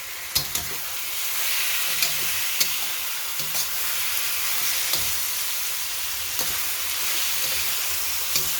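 Loud, steady sizzle as chicken wings fry in a pan for spicy coconut-milk chicken with kamias. Sharp, periodic clicks of a utensil tap against the pan over the hiss.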